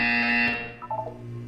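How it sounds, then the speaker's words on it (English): A loud electronic buzzer tone from the Portal video game, a steady harsh drone that cuts off after about half a second, followed by a few short tonal blips and a low lingering hum. "You will hear a buzzer."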